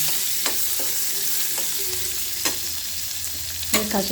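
Onion frying in a pan with turmeric powder for a fresh field-bean palya: a constant close sizzle broken by occasional spoon scrapes and taps against the pan.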